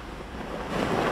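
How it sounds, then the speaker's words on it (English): Heavy wind and rain gusting through Jacksonville during a storm, a steady, loud roar of broadband rushing noise that builds slightly toward the end, with no voices. "we do have that heavy wind and rain here in Jacksonville"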